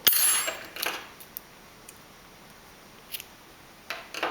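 Scissors snipping yarn after a crochet chain, a sharp close snip at the start followed by a few faint clicks and light handling sounds in a quiet room.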